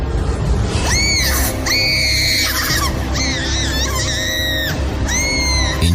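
Loud, repeated screams, high shrill wails and shrieks in a horror story, come in several bursts over a dense, noisy background, close and intense, with no talking.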